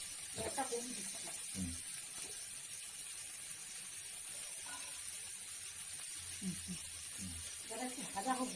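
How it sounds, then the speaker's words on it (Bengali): Ridge gourd, tomato and green chili sizzle steadily in a pan, a soft continuous frying hiss. A voice speaks briefly at the start and again near the end. "এটা একটু ভাজা হোক"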